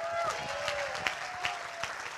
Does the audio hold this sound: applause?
yes